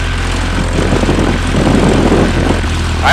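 A Piper Cub ski plane's engine runs at full throttle, a loud, close, steady propeller drone with a hard buzzing edge that does not let up.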